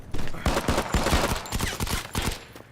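Rapid rifle gunfire from the mobile shooter Modern Combat 5, a dense, loud run of overlapping shots with sharp bursts repeating throughout, with no talk over it.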